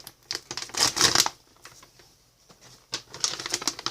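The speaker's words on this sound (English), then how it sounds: "I know playing with plastic or paper, it gets really loud in the mic" Crinkly plastic or paper bags rustle close to the mic in uneven loud bursts with brief pauses, while a worm colony is topped up with wheat bran.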